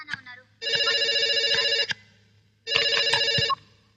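A telephone rings with an incoming call in a Telugu film scene: two long, loud electronic ring bursts separated by a short pause.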